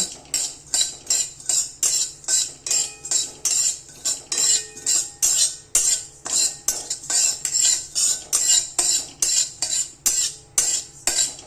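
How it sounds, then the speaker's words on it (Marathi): Poppy seeds lightly roasting in a pan are stirred with a utensil, making fast regular scrapes and clinks against the metal, loud and close, about two strokes per second with no voice. "आता इथे हलकीशी साधारण खसखस भाजून घ्यायची."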